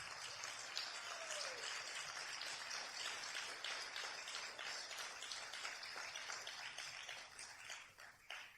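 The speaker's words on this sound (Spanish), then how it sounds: "Denle el aplauso al Señor." A church congregation at a Spanish-language service claps in a sustained, even round of applause that carries steadily before tapering off near the end.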